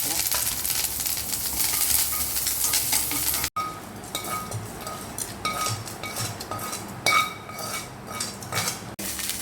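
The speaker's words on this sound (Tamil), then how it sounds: "தோசை ஊற்ற ஆரம்பிச்சாச்சு." Dosa batter goes onto a hot pan in a home kitchen: a loud, steady sizzle at first, then quieter frying with clinks of utensils and metal scraping against the pan.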